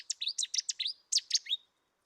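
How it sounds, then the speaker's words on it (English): Cetti's warbler singing a loud, explosive burst of bright repeated chirping notes in two quick phrases, close and clear with no other sound. "Chetty's warbler, quite a common bird now, all over the levels. You hear it everywhere."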